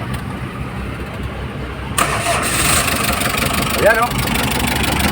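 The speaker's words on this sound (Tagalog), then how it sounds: "meron tayong Hyundai 200 tunog bangka" A Hyundai H-100 van with a hollow, boat-like engine note cranks and starts, then settles into a loud, steady idle close by as a voice speaks briefly over it.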